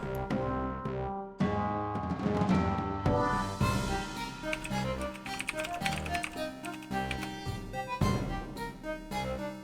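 Rapid typing on a computer keyboard, dense bursts of close, crisp key clicks with short pauses between runs, heard alone.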